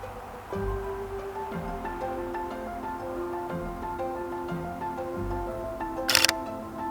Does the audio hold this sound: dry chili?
no